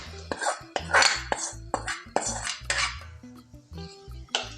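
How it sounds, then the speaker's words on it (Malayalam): Fried onion tempering goes into a tapioca and drumstick leaf curry. Metal utensils clank against the pot in close, uneven knocks, with short bursts of hot sizzle between them. "അപ്പം നമുക്ക് നമ്മുടെ കറിയിലേക്ക് ഉള്ളി മൂപ്പിച്ച് ചേർത്തി കൊടുക്കാം"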